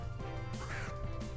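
A Starly Pokémon cry from the Pokemon Virion fan game: a harsh, raspy bird squawk that rises and falls in short bursts over steady, looping game music.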